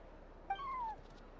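One short, clear meow from a cat in Genshin Impact, a single drawn-out falling call over a quiet background.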